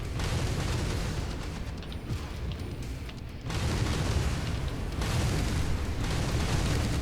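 SRM missiles fire and explode in BattleTech as a dense, rumbling wall of booms and bursts, loud and continuous, dipping briefly before surging again.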